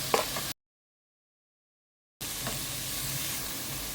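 Sliced onions frying with about a teaspoon of salt in a pan, a steady close sizzling hiss that cuts out into a stretch of silence and then resumes.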